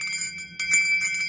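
A replica of the American Liberty Bell rings with bright, sustained metallic tones, struck a few times in quick succession with overlapping ringing that stays fairly loud and close, no voices present.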